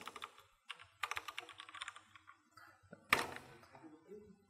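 Keys clatter on a new computer keyboard in uneven bursts of close, crisp taps, with pauses between runs and one louder, sharper key strike near the end.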